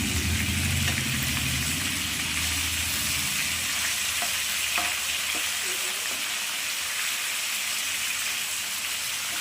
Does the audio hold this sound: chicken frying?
yes